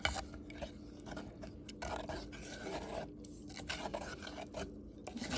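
Banana buttermilk curry stirred in a pot with the flame off, quiet steady scraping and swishing of a spoon against the pot in irregular strokes, close and soft with no talking.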